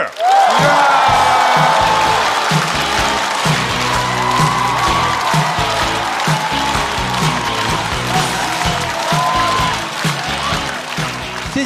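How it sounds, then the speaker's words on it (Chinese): A studio audience at a Chinese stand-up comedy show breaks into loud, sustained applause with cheering and whoops, welcoming a comedian to the stage, steady and dense throughout. "掌声欢迎"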